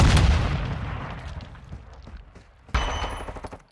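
A Semtex grenade blast in Call of Duty: Modern Warfare II, a loud deep boom that decays over a couple of seconds, followed by a second sharp burst of gunfire-like impacts.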